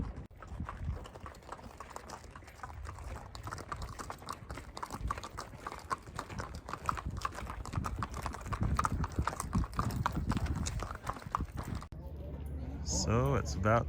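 Horses' hooves clip-clop at a livestock auction, a steady run of close hoofbeats under continuous crowd talk and chatter.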